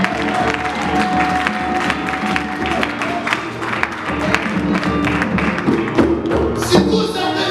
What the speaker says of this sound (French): Acclamons le Seigneur.